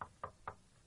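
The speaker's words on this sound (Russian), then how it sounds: "Горничные приходили, стучали в дверь." Three sharp knocks on a hotel room door, evenly spaced, fairly close and alone in a quiet room.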